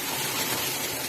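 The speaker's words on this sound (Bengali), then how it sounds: "এরপর এর মধ্যে দিয়ে দিচ্ছি জল" Water poured into a pan of egg curry with potato and papaya, a steady broadband gush that runs unbroken from start to finish.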